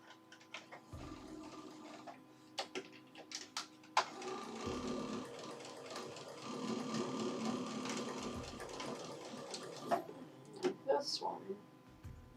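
A domestic sewing machine stitches a seam in short whirring bursts separated by brief pauses and clicks, fairly quiet and close, with a voice talking in between.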